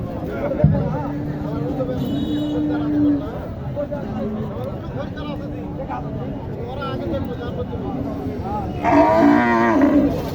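Cattle, including Sahiwal cows and calves, moo repeatedly at a busy livestock market in Naogaon, with loud nearby calls rising over steady crowd chatter and people talking.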